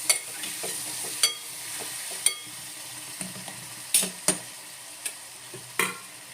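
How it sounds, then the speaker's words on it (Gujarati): Food sizzles steadily in a pan while a utensil stirs it, with sharp scraping clinks at irregular intervals over the continuous frying hiss. "અને હલાવી લઈએ."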